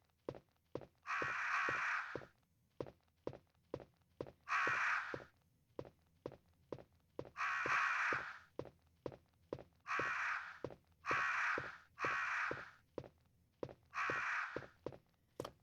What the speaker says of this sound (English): the crows are here to attack you if you fuck up the puzzle